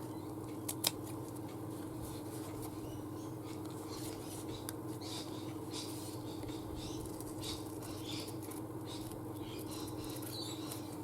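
Scissors snip around a piece of craft work, giving quiet, close crisp cuts over a low steady hum with no talking.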